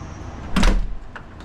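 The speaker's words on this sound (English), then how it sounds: "because it just happened to Inara, the second you let go of that door, it starts shutting." Building door swinging shut on its own after being released, a single closing thud with a brief rattle, followed by a couple of faint clicks over steady background noise.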